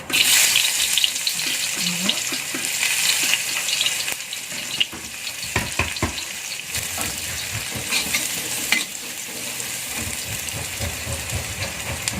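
Shallots sauté in hot leftover oil in a pan for a spicy fern stir-fry, sizzling steadily up close while a utensil stirs and scrapes with intermittent clinks and knocks.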